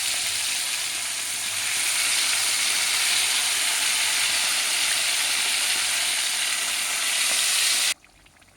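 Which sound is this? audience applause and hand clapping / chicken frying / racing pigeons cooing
chicken frying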